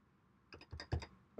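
Typing on a computer keyboard while coding in Unity, a short burst of about six close, crisp key clicks with a firmer final tap and no voices.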